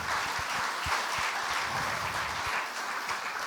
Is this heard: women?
yes